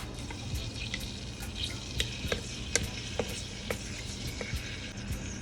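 Garlic frying in a pan for Jamaican-style callaloo and saltfish, a soft, steady sizzle with scattered small crackles and pops, no voices.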